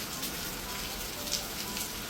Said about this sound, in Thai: วันนี้ฝนแบบ ตกหนักมาก